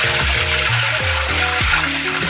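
Water is poured away from soaked bamboo leaves for rice dumplings, a steady splashing, gurgling stream with bubbly pitch glides throughout.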